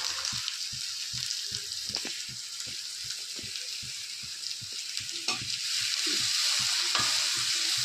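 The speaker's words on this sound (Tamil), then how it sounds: "ஒரு மூணு கிராம்பு போட்டுக்கிறேன் ஒரு கைப்பிடி வெங்காயம் போட்டுக்கிறேன்" Cloves and a handful of onion frying in a pan for a Tamil mutton liver fry, a soft steady sizzle broken by regular light clicks and taps of stirring, growing slightly louder near the end.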